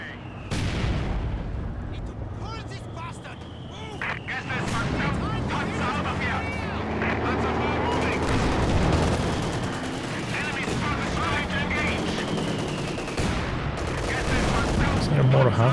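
Battle sounds in the World War II strategy game Company of Heroes 2, with a mortar half-track among the units and repeated gunshots and heavy booms over a constant rumble, with talking over much of it.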